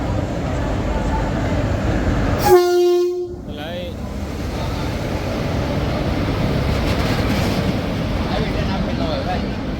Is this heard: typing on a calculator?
no